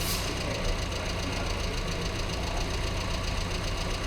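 A carbureted engine idles steadily and loudly while its fueling is adjusted, a continuous close rumble with an even knocking pulse and no talk over it.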